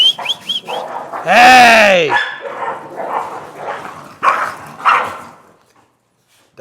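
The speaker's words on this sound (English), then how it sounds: "Having a dog fight over here." Dogs scrapping on a ranch with cattle and horses: loud snarling, growling and sharp barks close by, with a yelping whine mid-way and someone shouting at them between bursts.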